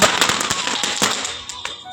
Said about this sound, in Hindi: अभी पटाखा वगैरह सब लोग फोड़ रहे हैं।